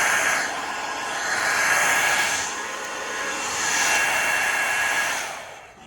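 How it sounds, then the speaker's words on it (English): A powerful blow dryer in a cruise ship balcony suite cabin runs continuously as a loud, steady airy roar, its pitch and intensity swelling and easing slightly as it is moved, with no talking. "it does come with a blow dryer"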